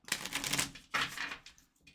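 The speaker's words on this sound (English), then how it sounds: "Still can't have them shuffle out one card. They're still sticking to each other." New tarot card deck being shuffled, two quick riffled bursts of crisp card flutter close up, with no talk.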